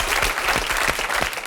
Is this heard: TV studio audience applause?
yes